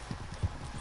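Horse hooves in Red Dead Redemption 2 as a horse runs with a herd, heard as a quick, faint, muffled clip-clop under steady background noise.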